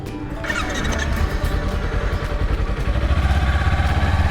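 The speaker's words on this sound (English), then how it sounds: "There goes another guy on a bike, the Harley." A Harley motorcycle rumbles past on a country road, its low engine note loud and steady, swelling toward the end as it comes close.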